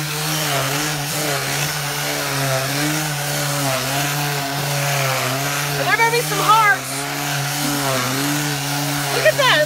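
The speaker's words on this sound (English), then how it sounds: "Keep the sander flat." Electric sander buzzes steadily over a painted wood table being distressed, a constant close whine with shifting grinding texture, with brief voices or scraping bursts near the end.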